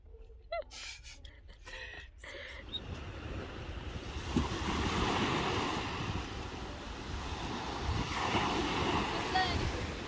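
Sea waves wash onto the shore on the Primorsky Krai coast, a steady roar of surf with wind buffeting the microphone, opening with a few brief handling knocks before the rushing water takes over and swells louder midway.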